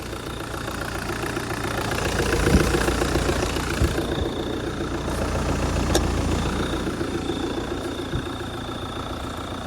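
A New Holland TN95NA orchard tractor engine, freshly serviced, idles steadily nearby, a low rhythmic chugging that holds throughout with a few faint knocks.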